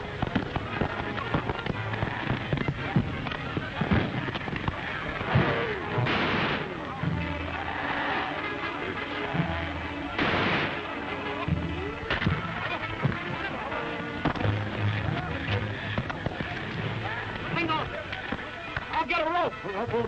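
Rifle gunfire in an old film serial, scattered sharp cracks mixed with hoofbeat-like thuds and period soundtrack, with voices shouting over the action.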